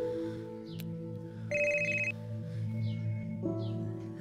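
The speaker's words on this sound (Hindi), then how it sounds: "ये तुम्हारा फोन बज रहा है, फोन लो।" A telephone rings with repeated electronic tones over a steady musical background, fairly close and moderately loud, with no talking.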